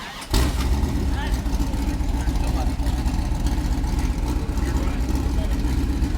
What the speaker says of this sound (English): Just touch the key, it'll fire right over.